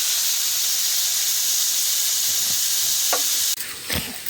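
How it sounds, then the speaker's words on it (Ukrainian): Onions sizzling in hot oil in a frying pan, a steady broad hiss throughout with a few brief stirring scrapes toward the end. "Тепер кидаємо цибульку, чуть-чуть обжаримо її на петельні"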